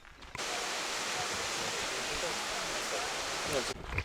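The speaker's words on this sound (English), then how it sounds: "So that was the whole waterfall." A waterfall gives a loud, continuous broadband rush of falling water that starts abruptly and stops abruptly, close and steady, with faint muffled voices underneath.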